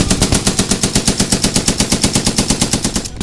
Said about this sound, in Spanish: Vamos ahora a dispararla como Rambo